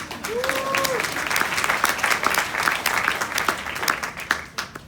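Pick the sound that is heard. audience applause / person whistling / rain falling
audience applause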